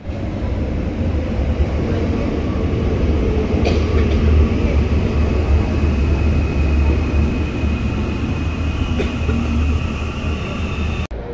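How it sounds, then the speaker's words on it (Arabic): Inside a moving metro train in Medellín, a steady loud rumble of wheels on track fills the car, with faint clicks and squeals over the constant roar and no one talking. "نتجهوا وسط المدينه غادي ناخذوا المترو"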